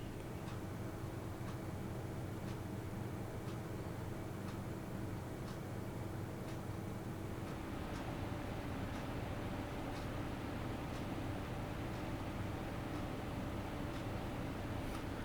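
A Scythe Sidewinder Tornado slim case fan runs at full speed, giving a faint, steady broadband whoosh with soft regular ticking throughout and a slight lift in the noise partway through.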